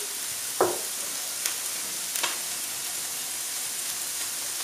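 Onions and bacon lardons, well browned and softened, sizzle gently in a pan, a soft steady fry with a few sharp scraping stirs, close and quiet, no voices.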